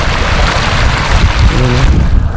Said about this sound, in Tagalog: Grabe ang agos, oh.